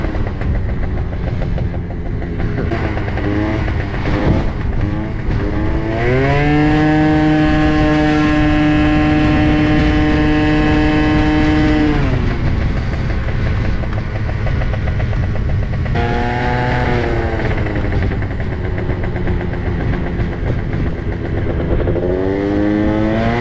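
A dragster car engine drives through city streets, loud and close, with drawn-out revs that climb and hold in pitch, then drop and rise again.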